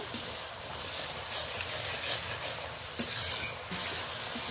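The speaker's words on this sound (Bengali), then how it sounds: "মশলাটা ভালো করে নাড়াচাড়া করে দিলাম মশলাটা কষানো প্রায় কমপ্লিট হয়ে গেছে" Spice paste for a spicy topshe fish curry frying in oil in a pan, with a steady close sizzle and scraping stir strokes that continue throughout.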